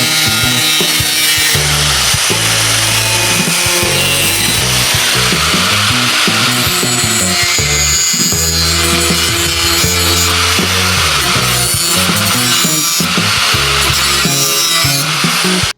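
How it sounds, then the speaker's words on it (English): A continuous loud grinding, rasping tool noise works steadily up close while chrome trim is stripped off a third-generation Cummins truck, unbroken for the whole stretch with varying pitch. "so that I can remove the rest of this chrome trim without an issue"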